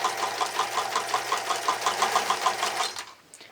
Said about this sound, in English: So just sew the 2 pieces together on the line.